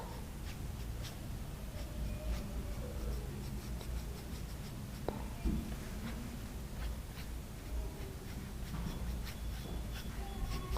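Dry brush working over wet watercolour paper while painting sea waves, a soft continuous scratchy scraping with faint taps throughout, close and steady with no talk.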